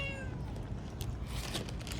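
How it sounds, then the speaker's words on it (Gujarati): A cat gives one short, high meow right at the start, followed by quiet rustling and a couple of faint clicks. "મારે વાહે મીંદડી પડે ગઈ."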